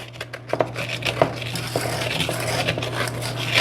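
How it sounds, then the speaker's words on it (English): Salted caramel and cream stirred continuously in a pot for fudge brownies, with soft scraping and intermittent light clinks of the utensil against the pan. "We're going to empty that in there and just continuously stir that"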